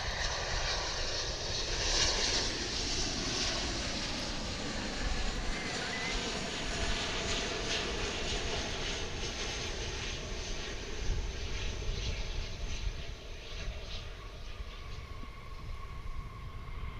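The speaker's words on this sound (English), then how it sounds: "It's 777 coming in from Buenos Aires in the southern hemisphere." A Boeing 777-223 arriving at DFW from Buenos Aires rumbles as a faint, distant and steady jet roar that drones on unbroken for the full length, with no talking over it.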